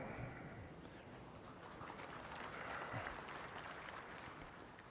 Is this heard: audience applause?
yes